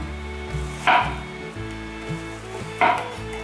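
A knife slices half-thawed tofu skin (baiye) on a cutting board, giving two crisp, separate cuts about two seconds apart over steady background music.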